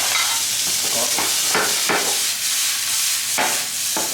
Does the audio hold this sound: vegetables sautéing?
yes